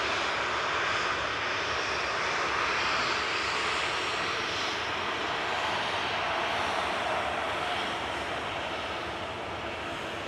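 Boeing 737-800 jet aircraft engine at Manchester Airport, a loud, steady broadband roar with a rushing hiss that holds constant for the whole stretch and eases only slightly toward the end, no voices over it.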